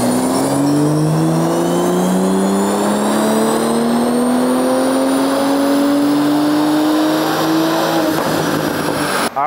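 A 2025 BMW M340i with a third-generation B58 turbo six, on JB4 map 5 with E30 fuel, makes a dyno pull: a loud, close engine roar climbing steadily in pitch for about eight seconds before cutting off sharply.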